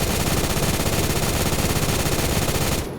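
A gun in the video game Phantom Forces fires on full auto in one loud, dense, unbroken stream of rapid shots lasting about three seconds, then stops abruptly.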